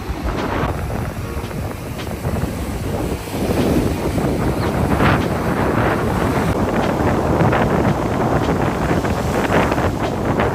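Rough, continuous rushing of sea waves mixed with heavy wind buffeting the microphone, loud and unbroken throughout.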